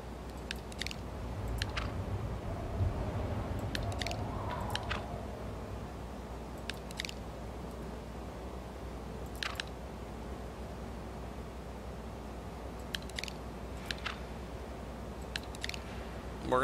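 Beans being eaten in the H1Z1 video game, with short crisp chewing and crunching clicks repeating in small bursts over a steady low game background hum, fairly faint.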